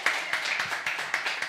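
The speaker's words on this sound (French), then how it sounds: "je vous demande de l'applaudir, messieurs, dames, nous accueillons Violaine." Studio audience on a French comedy show clapping to welcome a guest, a quick patter of many hands at close range, rapid and uneven.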